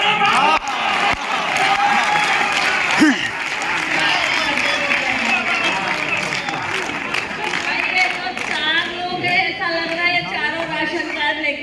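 A seated audience at a Hindi poetry recital applauds steadily, with crowd murmur and a few cheers mixed in. A voice speaks over the clapping.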